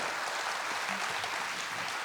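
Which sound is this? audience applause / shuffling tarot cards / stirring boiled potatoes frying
audience applause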